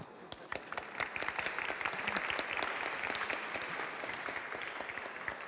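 Audience applause at a symposium marking a tenth anniversary, a full room clapping steadily and densely for several seconds at a fairly even level.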